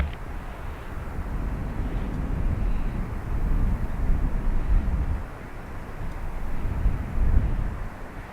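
A Ryanair airliner roars in a broad, low rumble that swells and eases, heard from a distance outdoors with some wind noise and no voices.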